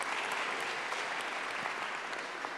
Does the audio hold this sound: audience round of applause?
yes